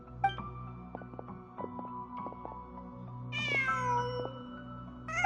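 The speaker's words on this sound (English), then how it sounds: "Just a cat." A cat in the video game Genshin Impact gives a clear, drawn-out meow near the end over soft ambient game music and light clicks, with no talk.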